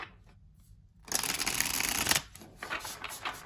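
A Superlunaris tarot deck is shuffled up close, a dense papery riffle lasting about a second followed by a few softer flicks and shuffles of the cards.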